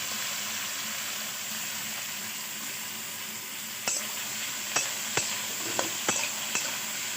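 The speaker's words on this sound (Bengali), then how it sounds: "এরপরে আমি এর মধ্যে আলু কুচিগুলো দিয়ে একটু ভেজে নেব।" Chopped potatoes frying with ginger and green chilli in a pan: a steady, close sizzle throughout, joined in the second half by about five sharp spatula knocks against the pan at irregular intervals, with no speech.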